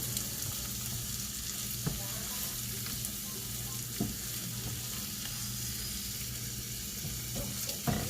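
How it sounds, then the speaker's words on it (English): Shrimp in garlic butter sizzling steadily in a pan while being stirred, a dense continuous fry with occasional soft utensil scrapes, close up and without talk. "Keep stirring, make sure your garlic do not burn."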